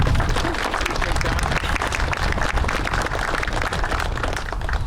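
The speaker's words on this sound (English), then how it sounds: "If you would just take a moment to give all the council members a round of applause." A crowd at the Marysville Civic Center groundbreaking applauds the council members, a loud, thick wash of clapping with rumbling low noise that holds steady throughout.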